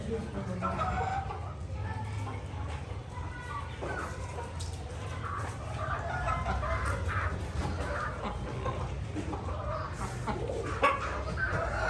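A rooster and hens call and cluck continuously in the background on a farm while people talk nearby.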